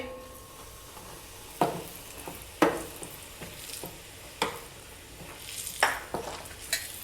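Spices fry in hot oil for matka chana, a steady sizzle broken by several sharp scrapes and clinks of stirring in the pan, close by with no talking.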